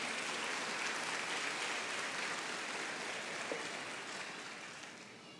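A church congregation applauds in praise during a worship service, a dense, steady wash of many hands clapping at once that fills the whole span and slowly tapers off toward the end.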